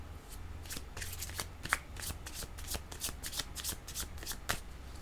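Oracle cards being shuffled in a rapid series of crisp riffling flicks, close and fairly quiet, with a low steady hum underneath and no talking.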